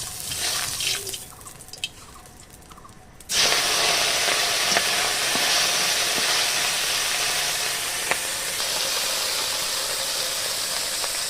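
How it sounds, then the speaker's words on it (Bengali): Khoira fish frying in hot oil, a muted stretch giving way to a loud, steady hiss and crackle of sizzling that continues with occasional sharp pops. "দেখো মাছ ভাজাটা উল্টে দিচ্ছি"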